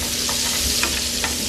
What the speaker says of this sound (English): now I'm going to come with my butter. And we're going to add it in here